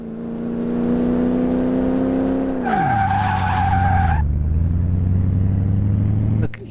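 A Sakura GT20 (Toyota 2000GT) in a video game gives a loud, steady engine drone that drops sharply in pitch midway. A short, high tire squeal sounds over it before a lower, sustained engine note takes over.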